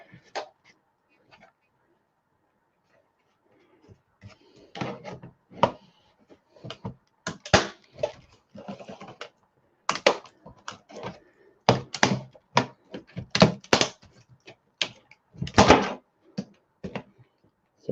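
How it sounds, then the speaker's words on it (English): Plastic bezel being pried off the underside of a device, with sharp irregular cracks, snaps and taps of bits breaking off, close and intermittent after a quiet start. "We'll have to pop off the bezel here on the underside of this and try and get"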